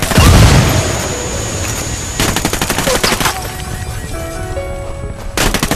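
A frag grenade in Ghost Recon Wildlands goes off with a loud, deep boom, followed by several seconds of crackling gunfire bursts and rumbling debris.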